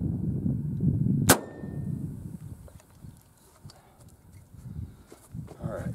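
A single sharp crack from an Airforce Texan big bore .457 air rifle fired over a chronograph outdoors, loud and sudden, with someone talking before and after the shot.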